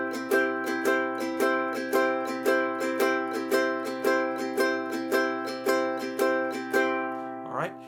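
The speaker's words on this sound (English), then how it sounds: "First of all, I hear a shuffle strum." A ukulele plays a shuffle strum, steady bright chords struck in an even swinging down-up rhythm, close and clear with no talking, ending on a brief slide.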